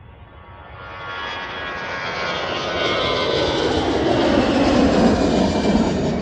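An airplane takes off at Amsterdam Schiphol Airport, its engine roar swelling steadily from a distant rumble to a loud, sustained wash of noise.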